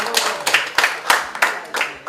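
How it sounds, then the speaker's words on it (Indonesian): Sparse, rhythmic clapping from a small audience at an Indonesian national football team press conference, about seven distinct claps in a brisk, steady pattern, fairly close and moderately quiet. "tepuk tangan sedikit untuk Farhan ya."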